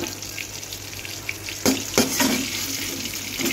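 Chicken frying in a pan late at night, a steady close hiss with a few sharp crackles and spatters partway through and no one speaking.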